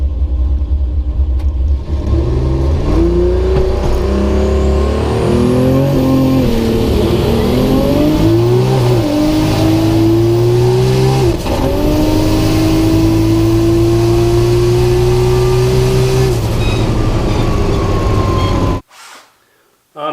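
A loud car engine revs against a two-step launch limiter, holding and climbing in pitch with the transmission loaded up, then cuts off abruptly near the end.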